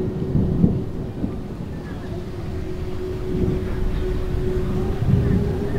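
Thunderstorm with wind and rain outside a house: a low, continuous rumble of thunder under a steady wash of rain and gusting wind, fairly loud throughout with slight swells.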